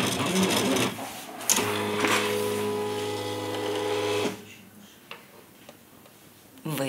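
A Silhouette plotter cutting heat transfer film: a loud mechanical whir with ticking carriage movement and a tonal motor drone, stopping partway, then faint clicks.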